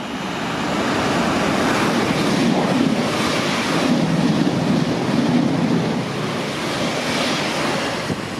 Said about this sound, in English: that train has come from Horsham going to Peterborough